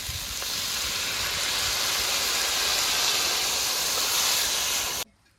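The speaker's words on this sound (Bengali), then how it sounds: "এবারে জল দিয়ে দেবো" Water poured into a hot pan of fig and potato curry gives a loud, steady steaming hiss that holds for about five seconds and then cuts off abruptly.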